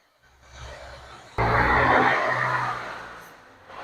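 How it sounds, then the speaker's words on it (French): Trucks pass along a suburban road with a loud, rushing roar that swells suddenly, holds, then fades, after a quieter approach, heard outdoors in a garden. "vu les camions qui passent"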